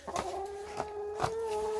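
A hen sitting on her nest gives soft, low clucks and murmurs, close and fairly quiet, a few brief pulses over a steady background drone.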